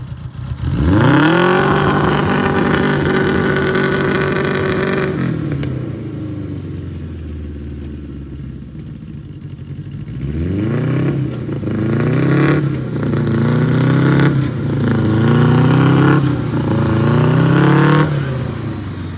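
A 1950 Willys M38 Jeep powered by a Honda Goldwing motorcycle engine drives and revs loudly up close, rising through gears in repeated surges after a brief quiet pause, with no talk.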